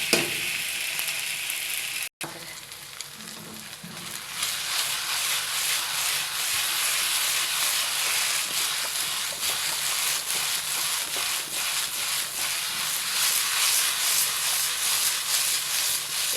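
Egg noodles seasoned with salt fry in a pan, giving a steady loud sizzle with scraping stirring that picks up after a brief pause and runs continuously to the end, with no talking.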